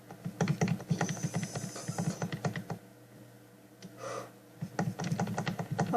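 A computer keyboard clatters in rapid bursts of key presses during a game of agar.io, pauses briefly, then resumes at close range.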